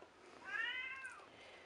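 A cat gives one faint, drawn-out howling meow that rises and then falls, heard at a distance in the background of a quiet room.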